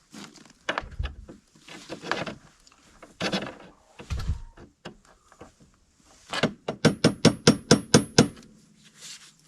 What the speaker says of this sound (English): Man, Seth Murphy, what a hammer for the job